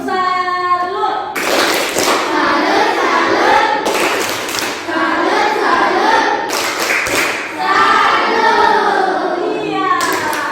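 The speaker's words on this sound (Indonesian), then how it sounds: "Ayo tepuk salut untuk diri kalian masing-masing ya" Students in a classroom clap the rhythmic 'tepuk salut' pattern in bursts of quick patterned claps separated by pauses, with voices chanting and talking between the rounds.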